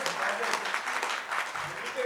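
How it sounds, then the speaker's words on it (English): Audience applause at the inaugural session of an education leadership summit, a steady wash of clapping hands at moderate volume, with some voices mixed in. "Can we have a bigger round of applause?"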